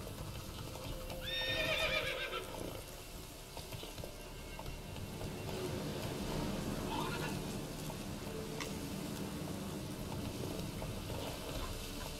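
Horse in Witcher 3, galloping with a steady clip-clop of hooves throughout and a loud, close whinny near the start, over a continuous outdoor game ambience.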